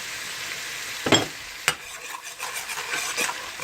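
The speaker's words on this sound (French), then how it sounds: "Dès qu'on met cette épice-là dans l'huile, ça sent tellement bon." Garlic, parsley and green onion seasoning sizzling in hot oil makes a soft continuous crackle, broken by a few sharp stirring clinks and scrapes against the pot, with no talking.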